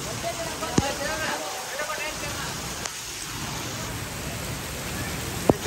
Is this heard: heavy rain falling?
yes